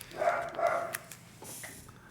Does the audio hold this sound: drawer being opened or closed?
no